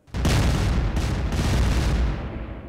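A bomb detonates in Garry's Mod, a sudden loud game explosion that bursts in and rolls on as a dense, roaring rumble, fading slowly over a few seconds.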